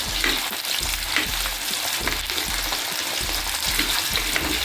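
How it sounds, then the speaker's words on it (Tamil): Shallots frying in oil in a pan for Tamil kara kuzhambu, giving a steady, close, dense sizzle with a regular pulsing undertone and faint stirring, with no talking. "வெங்காயம் நல்லா செவக்கணும்."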